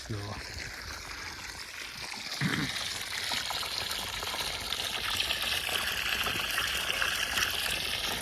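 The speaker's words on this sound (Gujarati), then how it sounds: "ખેતરમાં આવી ગયા ને પાણી ચાલુ છે" Irrigation water rushes steadily through a farm field in a continuous hiss, with a single soft thump early on.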